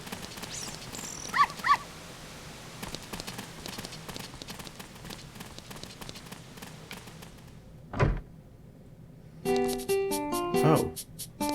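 A dog barks in the Zelda: Ocarina of Time video game, short yaps standing out over steady hoof-like clopping and game background noise, with a voice talking over parts of it.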